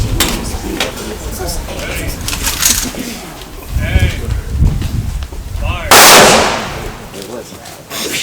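Rifle volley fired as a gun salute at a funeral: a loud sharp blast stands out near the end amid crowd noise and spoken commands, with earlier fainter bursts under the talk.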